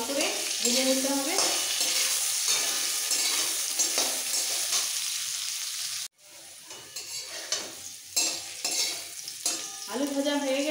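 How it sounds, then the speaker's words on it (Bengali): Potato pieces sizzle loudly in hot oil with a little salt and turmeric as a spatula stirs them in the pan. The frying hiss is steady and close, broken by scraping stirs and one short pause. "আলুগুলোকে হালকা লাল করে ভেজে নিতে হবে।"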